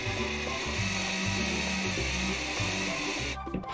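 A power drill whirs steadily at close range as it drives a screw into a wooden shelf, its motor pitch wavering with load before stopping near the end.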